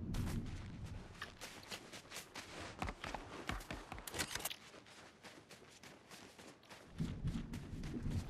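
Rapid gunfire from a Fortnite match crackles in dense, overlapping bursts of shots and impacts, loud and near, with brief lulls between volleys and footsteps mixed in.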